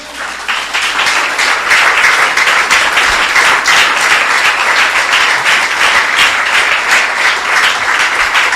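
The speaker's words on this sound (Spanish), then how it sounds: "quiero que le des un aplauso por eso." A church congregation applauding together after a pastor's sermon, loud sustained clapping from many hands filling a large hall, steady and dense for several seconds.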